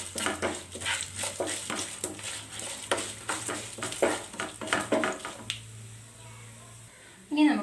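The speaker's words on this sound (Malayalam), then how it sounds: "ഇനി നമുക്ക് എടുത്തു വെച്ചിരിക്കുന്ന വറ്റൽമുളക് ആഡ് ചെയ്ത് കൊടുക്കാം. നന്നായിട്ടൊന്ന് മിക്സ് ചെയ്യുക." Dried red chillies are stirred in a pan for Kerala kara kozhukatta, with a utensil scraping and clinking repeatedly against the metal under a voice speaking throughout, a low cooking hum underneath.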